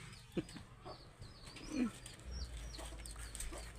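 Backyard chickens cluck softly at a distance in short, scattered calls, alongside other birds, with a low hum underneath and no talking.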